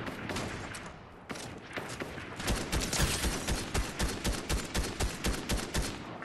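Fortnite gunfire: rapid, continuous automatic bursts fire in a steady rhythm, loud and close, with a brief lull early on and no talk over them.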